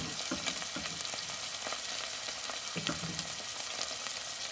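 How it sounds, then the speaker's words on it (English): A paste of garlic, ginger, onion and green pepper fries in a pressure cooker on a Trangia stove, with a soft, continuous sizzle and a few scattered spatters, no voices. "In goes the garlic, ginger, onion, green pepper paste"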